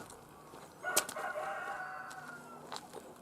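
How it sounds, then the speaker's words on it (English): Chickens in a backyard roosting area, with one rooster crowing faintly at a distance amid soft clucks and rustling, fairly quiet overall. "I had some chickens that are roosting over here."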